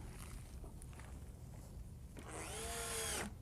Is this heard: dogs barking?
no